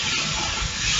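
Apple, herbs, onions and bacon steam in a hot pan on the hob, giving a steady, loud, close hiss with no other sound.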